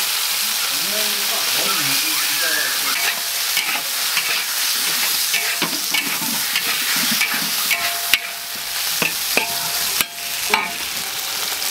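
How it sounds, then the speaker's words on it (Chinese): Onion, ginger, garlic and pickled bird's eye chilies stir-fried in a wok, loud continuous sizzling with busy scraping and tossing throughout and a few sharp clanks toward the end, with faint voices in the background. "小米椒给它炒，先炒上啊"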